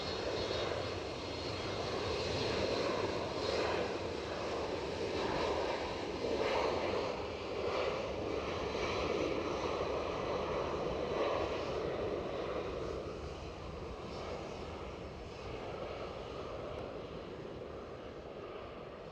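An airliner takes off from Edinburgh Airport bound for London City, its engines roaring steadily and loudly for the whole stretch. The sound swells slightly at the middle, then eases a little toward the end, with no talk over it.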